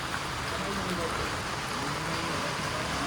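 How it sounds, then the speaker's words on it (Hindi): Even, continuous hiss of rain falling in a hill village in Uttarakhand, India, steady and moderately faint with no breaks, a faint low rumble underneath. "बारिश दिख नहीं पा रही, हो तो रही है, आवाज भी आ रही है।"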